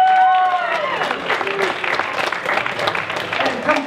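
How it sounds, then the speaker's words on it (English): Audience applause greeting volunteers called up on stage at an improv comedy show, steady clapping through the whole stretch with a voice speaking over it. "Round of applause for the brave souls."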